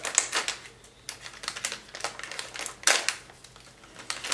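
Resealable false-eyelash packaging is torn open at the top, giving close, crinkly plastic rips and crackles in short bursts, with one sharper tear near the end and no talking.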